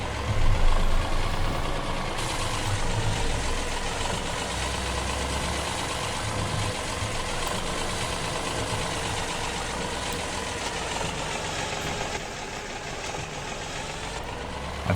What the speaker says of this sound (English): I've just reduced the sound volume of this tractor because it is a bit loud